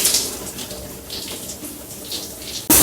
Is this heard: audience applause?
no